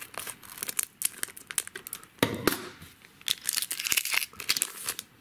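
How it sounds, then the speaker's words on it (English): A vintage Pokemon card pack's foil wrapper being snipped open across the top with scissors: close, crisp crinkling and rustling with short sharp cuts, and a louder tearing crackle partway through. "I'm gonna snip it, gotta snip it right across the top"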